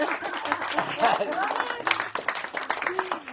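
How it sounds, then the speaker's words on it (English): A wedding vow renewal crowd claps for the bridesmaids and ushers in a scattered, uneven patter, with voices and cheers mixed in. "Let's give a round of applause to the original bridesmaids and ushers"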